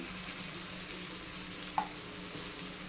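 Tomato puree, freshly ground from chopped tomatoes, sizzles and fries steadily in a hot pan while cooking down for Indian-style pasta, with one brief clink of a utensil partway through and no voices.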